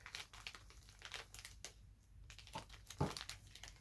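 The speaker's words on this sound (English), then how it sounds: "Ziploc bag, and you just want to get as much air as possible out before you zip it up." Plastic zip-top storage bag crinkling and rustling up close as air is pressed out of it, soft irregular crackles over a few seconds with one sharper crinkle near the end.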